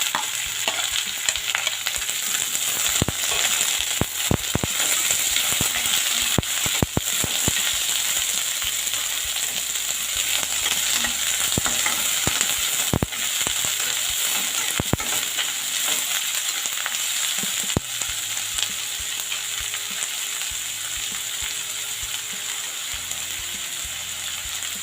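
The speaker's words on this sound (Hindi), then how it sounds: "प्याज को ब्राउन होने तक भूनेंगे दोस्तों।" Chopped onion fries in a pan for an Indian sabudana dish, giving a steady close hiss broken by occasional stirring clicks and scrapes.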